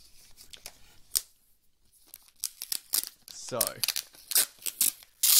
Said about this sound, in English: open this packaging